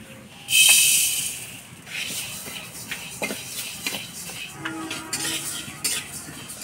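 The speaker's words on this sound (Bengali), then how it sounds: "কড়াইটা বসায় মুগ ডালটা ভেজে নেব।" Mung dal being dry-roasted and stirred in a kadai, giving scattered scraping clinks of the spoon against the pan with a soft steady hiss from the grains, close and moderately loud throughout, with no talk.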